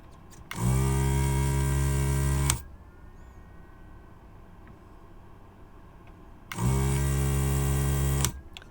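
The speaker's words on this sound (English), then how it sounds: "I'm going to desolder the jack using my trusty desoldering tool" An electric desoldering tool's vacuum pump runs in two loud, steady bursts of about two seconds each while removing a 3.5mm jack, with a low hum between them.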